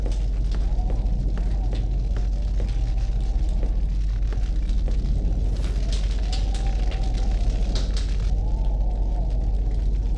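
A campfire burns at a camp in the video game Fahrenheit: Indigo Prophecy, a steady dense crackle and rumble that runs throughout under game music and voices.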